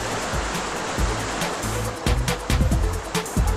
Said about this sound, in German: Trotz unleidlichem Wetter gehen wir auch mal paddeln, kämpfen mit Wind und Wellen.